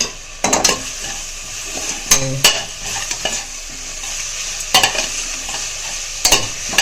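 Tomatoes and onions sautéing with rock salt for vegetable rice, a steady close sizzle broken by several sharp spoon scrapes and clanks against the pan.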